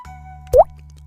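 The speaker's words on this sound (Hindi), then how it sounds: "तभी तेज बारिश की वजह से छत से पानी टपकने लगा।" One clear, close water drop plops from a leaking roof during heavy rain, a single brief, resonant splash over a faint steady hum.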